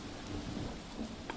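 Heavy monsoon rain falls during flooding near a rising river, a steady faint wash of rainfall with a low rumble underneath for just over a second.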